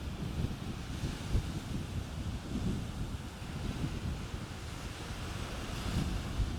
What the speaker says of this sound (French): C'est le bruit des vagues.